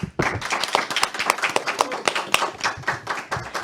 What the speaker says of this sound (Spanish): Un fuerte aplauso para Elizabeth Villegas.